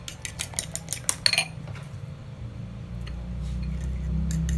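Egg omelette batter being mixed with sliced ham, a utensil clinking quickly and repeatedly against the bowl for over a second, then softer scraping over a rising low background hum.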